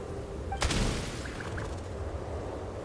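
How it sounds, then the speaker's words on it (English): A single gunshot in the video game Genshin Impact, set in Snezhnaya: one sharp, loud report followed by a brief rumbling tail, heard over a faint steady game ambience. "There's the gunshot."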